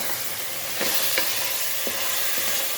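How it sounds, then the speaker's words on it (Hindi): 700 grams of mutton frying with shallow-fried onions in a pot for shalgam gosht: a steady close-up sizzle with a few soft scrapes and clinks as the meat is stirred. "अच्छे तरीके से 5 मिनट तक भूनना है ताकि इसके अंदर जो मटन का पानी है वो बिल्कुल इसमें ड्राई हो जाए।"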